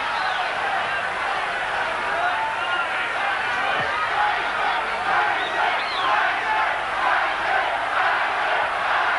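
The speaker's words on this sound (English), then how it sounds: "And there's jeering coming in the last round." Boxing crowd at the Mike Tyson vs James Smith fight jeering and booing in the last round, a broad sustained roar of voices with scattered shouts and whistles, a commentator's voice faintly mixed in.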